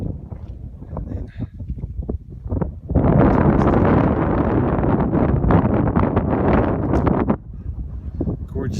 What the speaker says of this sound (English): Just really cold and a lot of wind.